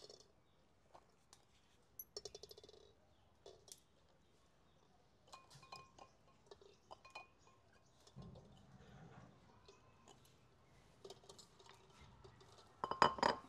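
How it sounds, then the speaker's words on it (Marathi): Eggs are set into a pressure cooker holding water, giving scattered soft clinks and taps against the metal in a quiet kitchen, with a louder clatter near the end. "कुकरमध्ये अंडे टाकून झालेले आहेत"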